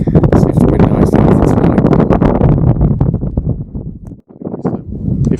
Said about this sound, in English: see if the wind dies down